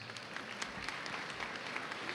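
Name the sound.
audience applause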